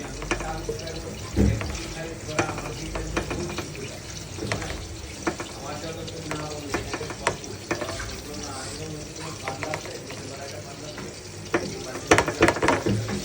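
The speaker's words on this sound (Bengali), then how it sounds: "এই তো বেগুন ভাজা আর খিচুড়ি হচ্ছে, খিচুড়িটা একটু নাড়াচাড়া করে দিব।" Khichuri is stirred in a pan on the stove as eggplant fries nearby, giving a continuous sizzle with scraping and clinking stirs that grow sharper toward the end.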